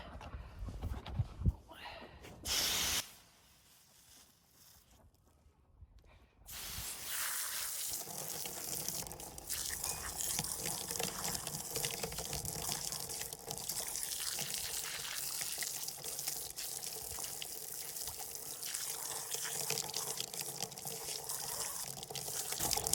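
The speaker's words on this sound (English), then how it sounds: "Now we're gonna hose them off." A water hose sprays butchered rabbits, a steady hissing rush of water that starts after a few seconds of bursts and a quiet gap, then runs continuously and fairly close.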